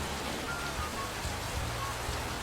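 Steady rain and storm wash in a Bengali animated cartoon about a Kalbaishakhi storm: a faint, even hiss of rainfall with a low rumble underneath, continuous and without distinct drops.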